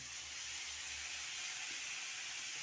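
Ginger paste spattering in hot oil for a fish curry of parshe fish with mustard and poppy seed: a steady, close hiss with fine crackle runs throughout, and no one speaks.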